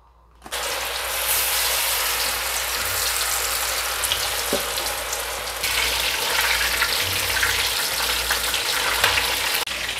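Cassava pieces (telo goreng) frying in hot oil, a steady close crackling sizzle that runs without pause and grows a little louder partway through, with no talking over it.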